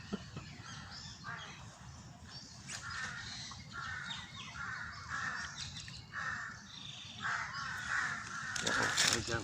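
Several crows caw in repeated harsh calls, some near and some farther off, over steady outdoor background noise with no talk.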